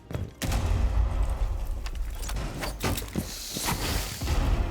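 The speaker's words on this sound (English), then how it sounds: "Oh, I hear Thermite's gun." Gunfire from Thermite's gun in the Rainbow Six Siege video game, sharp repeated reports in short bursts over a dense, steady background of game noise, fairly loud and mid-distance, with no talk.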